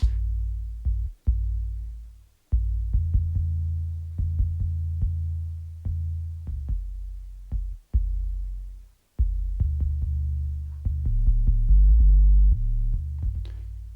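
A simple, deep bass line for a hip hop instrumental built in Logic Pro 11 plays alone, with sustained low notes that repeat in a steady rhythm and are briefly cut off between phrases.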